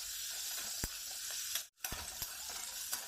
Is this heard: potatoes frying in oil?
yes